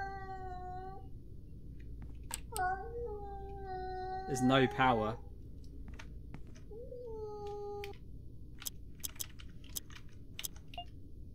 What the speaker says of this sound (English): That's a cat, right?